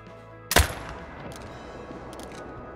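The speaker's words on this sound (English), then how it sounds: "I'm gonna shoot that 4. take this very delicately, and then as they spook, I'll start shooting them up the hill if I can." A single sharp rifle shot at animals in the hunting game Call of the Wild rings out loud and close, then trails off in a long echoing tail across open terrain.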